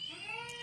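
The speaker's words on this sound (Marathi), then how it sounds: "आणि मांजरा ओरडतात" A single short, faint cat meow sounds in a village home, a brief tonal cry with no other sound around it.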